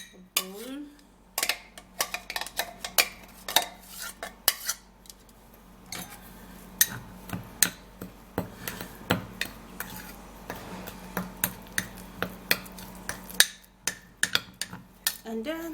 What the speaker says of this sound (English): now I'm gonna be transferring the papaya into a bowl